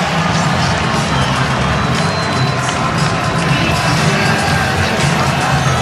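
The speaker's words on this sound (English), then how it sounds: "listen to the crowd as he walks out" A big MLS soccer stadium crowd roars and cheers continuously as a player walks out, a dense wash of voices and noise with no pauses.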